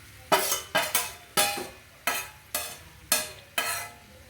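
Potatoes are stirred in a pan for egg biryani, a spoon scraping the metal in seven sharp, evenly spaced strokes with a faint sizzle between them, close up and without talking.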